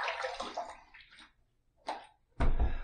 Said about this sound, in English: I just splashed a little bit of water on there